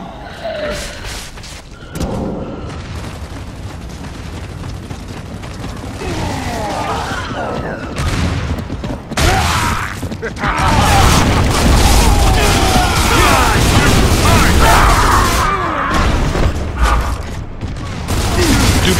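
Gears of War: Judgment free-for-all multiplayer match, with heavy booms of grenade explosions mixed with gunfire and clanking mechanisms, loud and dense across the whole stretch, with occasional voices.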